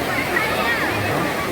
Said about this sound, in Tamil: நீர்வீழ்ச்சி ரொம்ப நல்லாயிருக்கும். தண்ணி நல்லா வேகமாக வரும்.